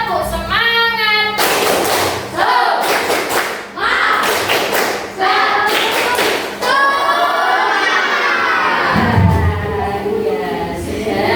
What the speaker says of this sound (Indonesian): Kita kasih tepuk dulu yuk. Tepuk semangat.